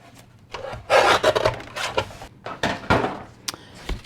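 Short bursts of scraping and rasping as card stock is trimmed a quarter inch small for a handmade decoupage card layer, several separate strokes close by with no talking.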